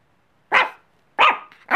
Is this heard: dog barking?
yes